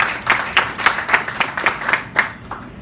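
An audience applauds at an African Union water ministers' meeting, a short burst of steady, close clapping that fades out after about two and a half seconds.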